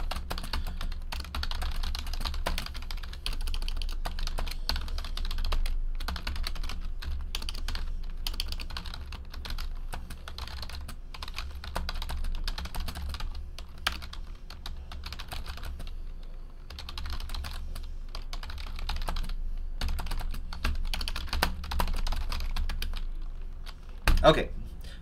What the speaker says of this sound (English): Let me just type this in really quick.